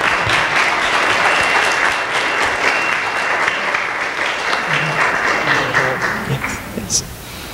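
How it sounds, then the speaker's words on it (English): A church congregation applauds after a prayer, a full, steady wash of clapping that carries for several seconds, with voices and cheers mixed in and the clapping thinning toward the end. "A round of applause."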